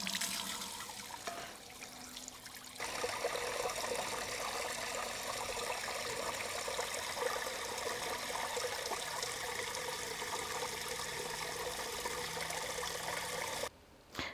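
Water pours steadily into a garden pot for a floating flower display, a continuous close splashing rush lasting over ten seconds before cutting off abruptly.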